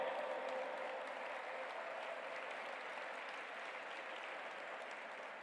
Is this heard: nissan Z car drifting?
no